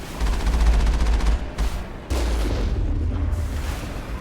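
Rapid automatic gunfire rattles in the video game Mass Effect 1, a dense loud burst followed by further heavy shots and blasts.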